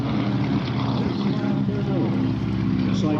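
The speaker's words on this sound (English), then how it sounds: "And our next aircraft is taking the active." A propeller aircraft at the Oshkosh airshow taking the active runway for takeoff, its engine a loud continuous drone with a slowly shifting pitch.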